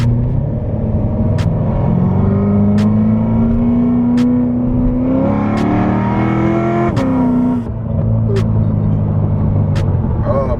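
A C7 Corvette engine runs at speed, a steady loud drone with rising pitch sweeps as it accelerates through the gears, interrupted by a brief shift dip, heard from inside the car.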